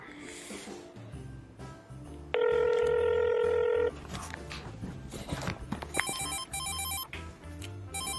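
A phone ringing for an incoming call, a sustained electronic ringtone lasting about a second and a half, loud and close, followed by further shorter tonal alert bursts amid background noise.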